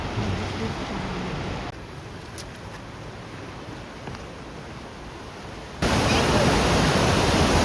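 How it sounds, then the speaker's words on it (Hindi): Fast river water near Jasper in the mountains rushes past as a continuous broad roar, nearby and loud, swelling louder toward the end. "देखो कितना पानी रश में आ रहा है"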